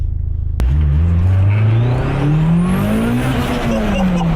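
A turbocharged Mitsubishi Galant VR-4 engine roars loudly as it accelerates hard, the pitch climbing steadily with a rising whine over the deep rumble, heard from inside the car.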